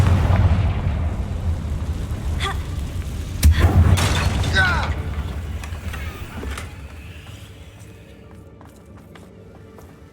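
A Confringo explosion spell in the video game Hogwarts Legacy, heard as a deep rumbling boom and blast near the start that fades into a low lingering roar, with brief crackling effects layered over it.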